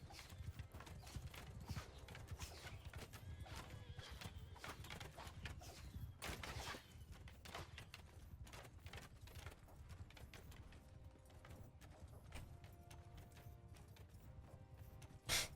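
Many hooves of horse archers pound in a dense, galloping clatter in the video game Mount & Blade 2: Bannerlord, steady and fairly loud, with faint mechanical clicks and a brief whinny mixed in.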